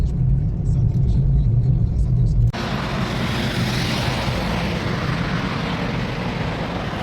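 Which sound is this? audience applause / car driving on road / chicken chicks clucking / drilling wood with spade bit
car driving on road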